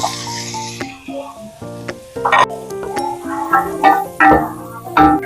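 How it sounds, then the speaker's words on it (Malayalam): Chopped tomatoes added to ginger garlic paste frying for a mutton biryani, a moderate sizzle with clinks and stirring scrapes, a background tone fading early, no talk. "നന്നായി വഴറ്റിയതിന് ശേഷം നമ്മൾ അരിഞ്ഞു വെച്ചിരിക്കുന്ന തക്കാളി ചേർക്കുക"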